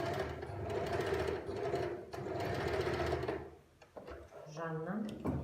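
An electric sewing machine stitches golden metallic thread in fast, steady bursts, running loud at first, then pausing and starting again more briefly, with a few low voiced sounds near the end.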